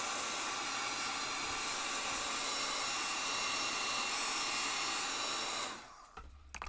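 Steady close roar of a dryer blowing air over a mixed media piece with alcohol inks, running loud and continuous for most of the time before shutting off near the end, leaving faint low handling noise.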